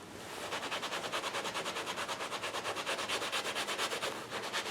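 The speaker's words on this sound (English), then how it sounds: "It's a lot easier to scrub a little bit less hard and just do it a little bit longer than it is to ruin the jacket." A brush scrubs a leather jacket in quick, even back-and-forth strokes to weather it, close and rhythmic at about six strokes a second, with no speech.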